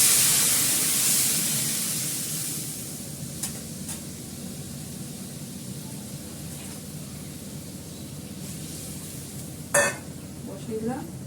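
Water added to a hot curry pot on the stove, a loud hissing sizzle that fades over a couple of seconds into a quieter simmer, with a brief clatter of utensils near the end.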